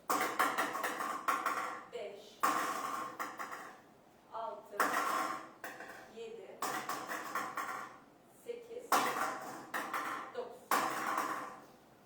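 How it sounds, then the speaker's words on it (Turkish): Ten numbered balls tossed into an empty lottery globe during a prize draw, producing repeated hard clattering rattles in quick clusters separated by brief pauses, close and fairly loud. "Sıfırdan dokuza kadar 10 adet numaralı top yerleştiriyoruz."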